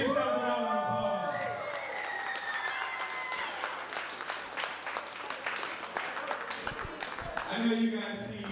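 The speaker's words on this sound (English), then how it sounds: "Give yourselves a round of applause." Crowd applause at an independent pro wrestling show, a loud, sustained mass of clapping and cheering heard through a venue, with voices shouting over it at the start and the end.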